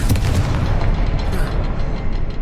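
A Confringo spell explosion in the Hogwarts Legacy video game produces a loud, deep booming blast with a rumbling tail that lasts the whole moment, close and dominant with no voices over it.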